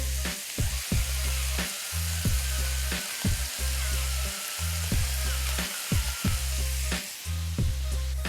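Minced meat fries with onions for içli köfte, sizzling steadily throughout with repeated low scraping knocks as it is stirred in the pan.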